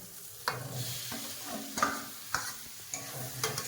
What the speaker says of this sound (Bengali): এবার ভেজে রাখা আলু দিয়ে দেবো দেখুন তেল চার পাশে খুব সুন্দর করে ছেড়ে গেছে